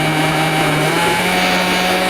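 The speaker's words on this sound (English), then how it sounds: "I turned the blender up to full" A 400-watt blender running at full speed makes a shake inside a 2017 Honda Ridgeline, giving a loud, steady motor whine with a constant hum and no breaks.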